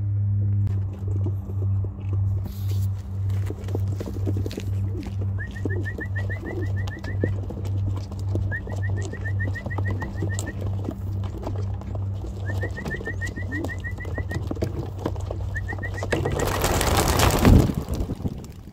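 Young racing pigeons coo in a steady, throbbing low rhythm over constant background noise, with thin bird chirps now and then and a loud rushing burst near the end.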